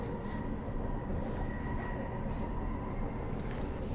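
Transperth B-series electric train running, a steady loud rumble of wheels and motors heard from on board throughout, with no talking.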